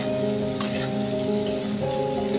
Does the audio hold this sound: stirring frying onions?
yes